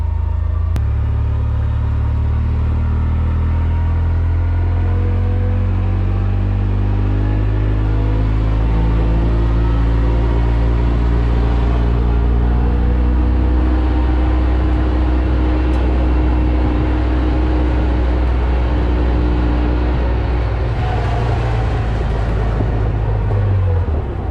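A Kubota utility vehicle runs at full speed, roughly 25 miles an hour, with a loud, continuous low engine rumble and drivetrain hum that stays steady throughout and is close to the listener.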